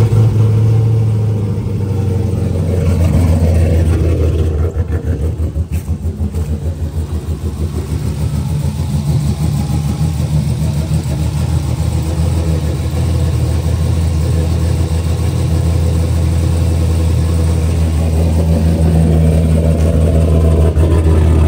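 A Dodge Charger R/T with a swapped 6.4 Hemi V8 starts and runs, its deep loud rumble idling close by with a brief rev early on, steady throughout.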